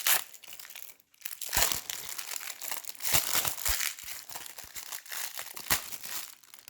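Plastic packaging around a deck of Dungeons & Dragons magic item spellbook cards is cut and pulled open, giving close, continuous crinkling and crackling with sharper snaps and tearing bursts, without talk.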